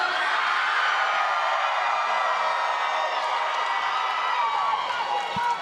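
A large audience cheers and whoops continuously for a new bare-knuckle boxing champion at an event in Biloxi, a loud, sustained roar with scattered shouts and applause.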